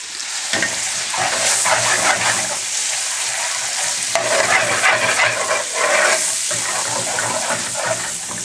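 A teaspoon of tomato paste cooks in a pan for vindaloo, hissing loudly and continuously up close while a utensil stirs and scrapes through it in bursts.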